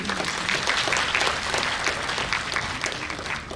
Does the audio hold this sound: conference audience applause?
yes